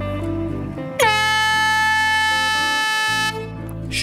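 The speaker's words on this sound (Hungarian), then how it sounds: "Majd megszólalt a kürt" A loud air horn blasts once and holds steadily for about two seconds, signalling the start of a Method Feeder qualifying fishing competition at Munkácsy lake, over low background rumble.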